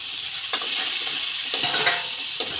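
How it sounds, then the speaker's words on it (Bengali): Soaked soybean chunks stirred into a frying pan with pumpkin for a spinach curry, a steady bright sizzle with a few scraping spoon strokes, close and alone. "এবার আমার ভিজিয়ে রাখা সয়াবিনটাও দিয়ে দিচ্ছি"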